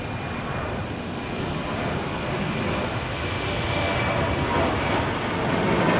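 A Sun Country airliner departing Phoenix Sky Harbor gives off a steady, fairly faint jet roar that builds slightly toward the end, with no talk over it.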